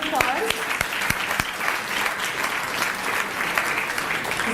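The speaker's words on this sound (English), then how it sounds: "if we can give him a round of applause." Applause from a dinner crowd at a fundraising event honoring the chef, steady dense clapping throughout with a few louder individual claps near the start.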